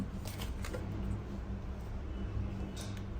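Tarot cards being shuffled, a soft continuous riffling and sliding of the deck close by, with a few light flicks early and near the end, no voices.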